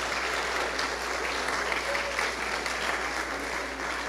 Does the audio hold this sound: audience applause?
yes